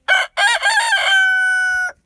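A young rooster crows once, close and loud, a choppy opening followed by a long drawn-out final note before breaking off.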